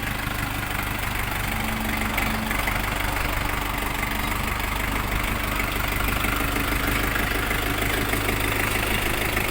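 A Bulat 244 mini tractor engine runs steadily at idle, a continuous diesel rumble with a knocking texture held close and loud throughout, with no talk.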